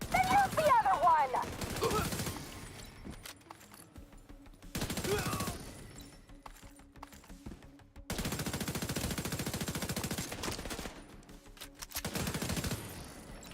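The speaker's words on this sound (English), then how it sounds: "And some shooting." Video game gunfire, repeated bursts of rapid shooting coming in several separate volleys with quieter gaps between, fairly faint overall, with talking mixed in.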